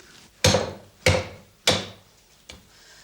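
Wild boar meat is chopped apart on a hard surface in four sharp, heavy thuds spaced about half a second apart, close by, with the last blow noticeably lighter.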